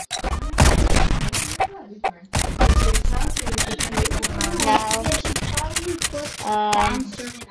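Rocket launcher firing in Shell Shockers, two heavy booming blasts a couple of seconds apart, followed by clattering game effects and short tonal sounds, with a voice speaking over parts of it.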